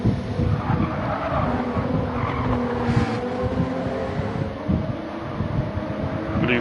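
Group 4 race cars in Gran Turismo drone past at steady high revs on the Deep Forest circuit, a continuous engine roar with shifting pitch and faint tire noise, no talk over it.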